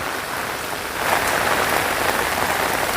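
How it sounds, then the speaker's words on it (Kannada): Steady heavy morning rain pours down in Thirthahalli, a dense continuous hiss of drops on surfaces that swells slightly louder after the first second. "ತೀರ್ಥಹಳ್ಳಿ ಫುಲ್ಲು ಮಳೆ, ಬೆಳಗ್ಗೆನೇ."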